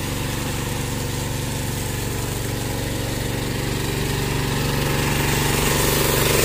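A gasoline engine on an ultra-high-pressure car washer runs steadily and loudly, a dense continuous drone that swells slightly toward the end, with no talk over it.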